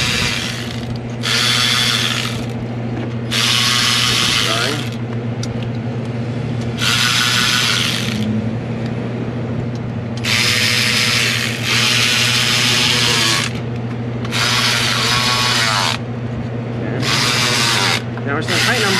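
A ratchet tightening injector bolts on a 2006 Ford F350 6.0 Powerstroke: loud, close bursts of rapid ratcheting, repeated about eight times with short pauses, over a steady low background hum.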